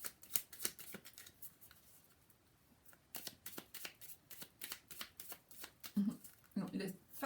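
Petit Lenormand oracle cards being shuffled by hand, repeated crisp riffling and flicking bursts up close, with someone speaking in between.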